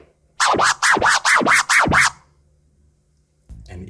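Rapid baby scratches on vinyl, about eight fast back-and-forth strokes in an even burst with sweeping pitch, close and loud, followed by quiet.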